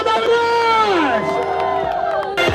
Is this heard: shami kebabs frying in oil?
no